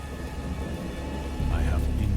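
Thunder rumbles low under steady rain in a stormy night scene from the video game Dagon, a continuous wash of falling rain with a heavier, louder surge of deep rumble arriving partway through.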